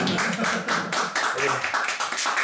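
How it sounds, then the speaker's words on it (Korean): A workshop audience claps in welcome, a lively crowd patter of many hands mixed with scattered voices talking at the same time, close and steady over the whole stretch. "박수 부탁드립니다"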